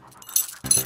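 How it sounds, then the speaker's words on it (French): A dog pants in short, breathy bursts, close and fairly soft, with a brief pause between two clusters of huffs. "Ne te laisse pas impressionner par ce chien méchant, tu vois?"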